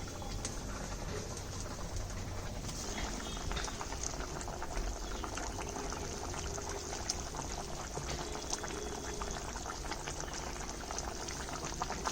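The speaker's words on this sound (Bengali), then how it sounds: "ঝোলটা ফুটে গেছে এবার মাছগুলো দিয়ে দিচ্ছি" Pieces of foli fish go into a boiling Bengali curry broth with bitter gourd and potato, giving a steady, dense bubbling and sizzling hiss that fills the whole stretch at an even level, with no voices.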